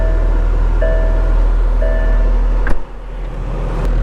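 A McLaren 765LT supercar fires up from a steady idle-like hum with a sharp, loud burst partway through, then settles into a lower, rougher rumble close by.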